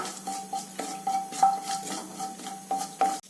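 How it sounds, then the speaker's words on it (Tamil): Mustard seeds popping in hot oil in a pan while cooking bun dosa, a busy run of crackling pops and light clinks of metal utensils against the pan, close and steady, with no one talking. "கடுகு பொரிய ஆரம்பிச்சிருச்சு"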